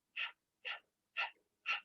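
Four evenly spaced panting breaths, tongue out, as a yoga breathing exercise, each a short breathy huff about half a second apart, close and clear with silence between and no talking.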